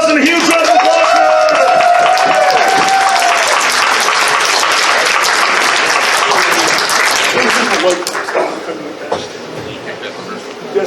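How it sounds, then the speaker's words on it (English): Applause and cheering from a convention crowd at a furry convention debate panel, loud and sustained for about eight seconds before tapering off, with voices mixed into the noise. "give them one more round of applause and a huge round of applause"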